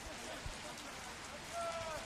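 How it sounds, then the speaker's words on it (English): Heavy rain pouring down at the George Andrews football ground under newly upgraded floodlights during a Dandenong Thunder versus Green Gully match. A steady, even hiss of rainfall fills the background, fairly faint and continuous, with a brief thud partway through. "Rain really coming down now."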